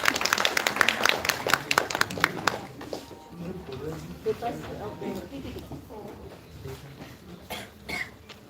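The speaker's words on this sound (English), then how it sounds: "Big round of applause for them, guys." At the inaugural session of an international conference at the University of Delhi, an audience breaks into applause that starts strong, then fades into scattered claps, coughs and murmuring room noise.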